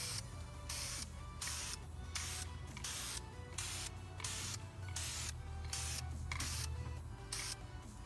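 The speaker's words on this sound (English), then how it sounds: "be careful where you're spraying, because this caliper spray does tend to get everywhere" Aerosol caliper spray paint hissing onto a yellow AMG brake caliper in steady, close bursts of about half a second, repeated in a regular rhythm with brief pauses between them.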